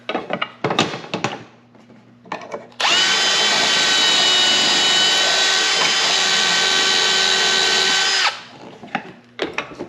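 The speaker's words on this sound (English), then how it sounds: "And that's drilling them out." A power drill whirs steadily for about five seconds, loud and close, drilling holes in a drawer for drawer slides, with short bursts of handling clatter before and after.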